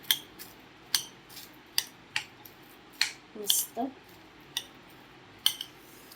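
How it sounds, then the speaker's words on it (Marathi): Raw mango pickle stirred with a spoon in a steel pot after hot tempering is added, giving a series of sharp metallic clinks and scrapes at an uneven rhythm, close and moderately loud, with a brief word spoken. "आता आपण हे मिक्स करून घ्यायचं आहे बघा"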